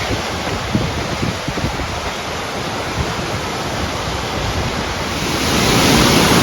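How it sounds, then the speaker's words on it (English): Rushing water from a chain of waterfalls in Lassen Volcanic National Park, a steady broadband roar that holds throughout and swells slightly near the end, with no voices. "It's waterfall after waterfall after waterfall"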